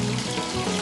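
Food fries in hot oil in a home kitchen, a brief steady crackling sizzle heard close up with no talking.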